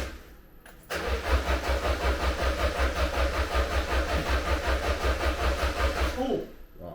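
A car engine cranks and catches in cold weather, then settles into a steady, pulsing idle for about five seconds before cutting off, close and loud, with no talk over it.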